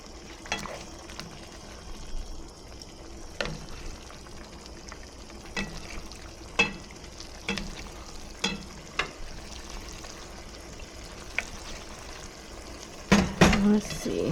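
Fried rice crackles in a pot with an intermittent sizzle, broken by regular scrapes and knocks of a utensil stirring it, getting louder near the end; little or no talk.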